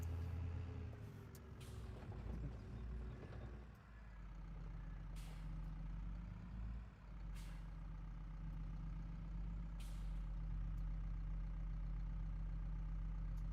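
A tractor in Farming Simulator 22 idles and rumbles as it is parked under farm sheds, a low steady engine drone with a few brief hissing bursts like air brakes, heard faintly with no talking.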